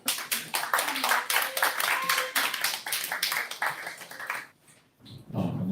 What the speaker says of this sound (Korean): 변호사님 나오실 때 큰 박수로